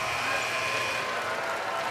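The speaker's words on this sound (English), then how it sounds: "Haskell goes to the bench and gets a round of applause" A Villanova basketball crowd applauding as a player heads to the bench, a steady dense patter of clapping that fills the arena evenly from start to finish, with no speech over it.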